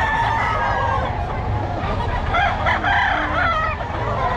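Chickens clucking and a rooster crowing amid a noisy, busy farmyard, several birds close by and continuous.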